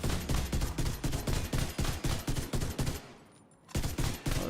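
Rapid bursts of automatic gunfire from a gun in The Division 2 that fires two bullets side by side, loud and close, with a short pause near the end before firing resumes.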